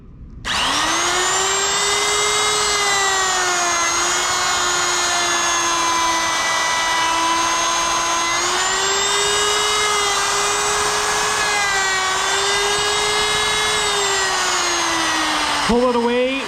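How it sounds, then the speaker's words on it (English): Woodworking router motor spinning up and running at full speed, a steady high-pitched whine with a strong tonal hum that wavers slightly, loud and continuous, then cuts off near the end. "turn the machine on"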